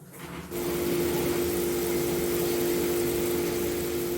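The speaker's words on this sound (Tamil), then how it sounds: "ஸோ நல்லா தண்ணி கொதிச்சிருச்சு" A steady rumbling bubble of water boiling in a pan for semiya upma, with a constant low hum that starts abruptly after a brief quieter moment.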